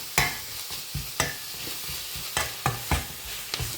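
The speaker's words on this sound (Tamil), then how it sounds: "சேர்த்து வடிவாக கலந்து விடுவோம்" Spoon stirring drumstick leaf stir-fry with grated coconut in a pan, irregular scraping knocks every half second or so over a soft, constant sizzle, close and fairly quiet with no talking.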